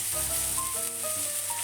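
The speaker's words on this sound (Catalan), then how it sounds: "picarem una ceba i la posarem a fregir amb un bon raig d'oli d'oliva a foc suau" Chopped onion frying gently in a good splash of olive oil over low heat, a continuous soft sizzle with a faint steady hiss and no talking.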